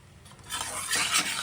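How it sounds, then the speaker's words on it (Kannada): Chana dal, mustard seeds and urad dal fry in hot peanut oil for beetroot palya, a soft sizzle under quick scraping stirs of a spoon against the pan, close and brief. "ಸಾಸಿವೆ, ಉದ್ದಿನಬೇಳೆ ಎಲ್ಲ ಹಾಕ್ಕೊಂಡು ಫ್ರೈ ಮಾಡ್ಕೊತಾ ಇದ್ದೀನಿ ಆಯಿಲಲ್ಲಿ"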